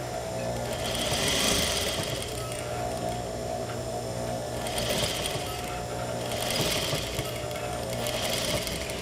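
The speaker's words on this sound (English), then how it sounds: "And then I'm going to continue sewing this seam at 1/2 inch." A sewing machine runs steadily while stitching a half-inch seam on an open bound seam, a continuous close mechanical whir with slight surges in speed and no talking.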